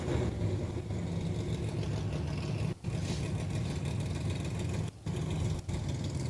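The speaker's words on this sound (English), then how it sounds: "he's going to check the rev limiter while he's in the car right now" A dirt track race truck's engine at a Texas speedway runs steadily and loud, rumbling and revving up against its rev limiter, with brief cut-outs in the drone.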